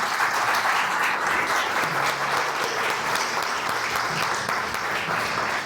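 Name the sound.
congregation applause in church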